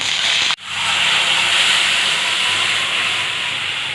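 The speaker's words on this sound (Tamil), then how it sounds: "எண்ணெய் சூடானதும் நம்ம எடுத்து வச்சுருக்க கிராம்பு, 2 ஏலக்காய், சோம்பு, பிரியாணி இலை எல்லாத்தையும் சேர்த்துடலாம்." Cloves, cardamom, fennel seeds and bay leaf sizzle in hot oil for jackfruit kola kuzhambu, a steady close broadband hiss that cuts out briefly near the start and then resumes.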